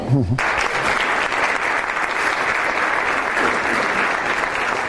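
An audience breaks into sustained, even clapping right after a brief spoken phrase at the start, the applause staying full and steady to the end.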